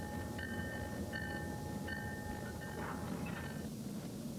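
A 1967 passenger train runs along the old railway at St. John's, a steady rumble with a sustained horn-like tone sounding in repeated bursts over the noise.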